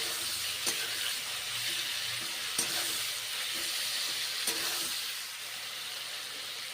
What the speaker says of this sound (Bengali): লবণ দিচ্ছি ভেজে নিচ্ছি নেড়ে চেড়ে